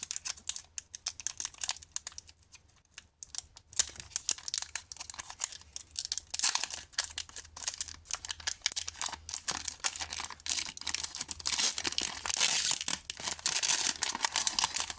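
Foil Pokémon card booster packs are torn open and crinkled by hand, producing a steady run of loud, close crackling and ripping that starts quietly and grows denser, with no talking.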